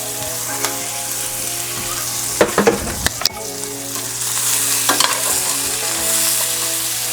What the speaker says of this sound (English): we're gonna let this fry on this setting here, on our medium setting, for get some color on these potatoes